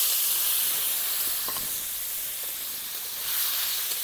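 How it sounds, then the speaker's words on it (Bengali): Turmeric-and-salt-coated prawns sizzle in hot mustard oil in a wok, giving a steady bright hiss of frying throughout with faint crackles, no voices. "তেল গরম হয়ে গেছে, লবণ হলুদ মাখিয়ে রাখা চিংড়ি মাছগুলো দিয়ে দেব।"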